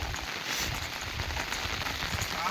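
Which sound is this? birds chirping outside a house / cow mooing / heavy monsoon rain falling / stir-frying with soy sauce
heavy monsoon rain falling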